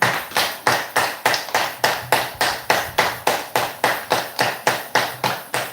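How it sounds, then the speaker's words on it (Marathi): A live yoga session audience claps loudly in unison, a steady run of sharp, evenly spaced claps filling the whole stretch with no voices over it. "त्यांच्यासाठी जोरात टाळ्या वाजवूया"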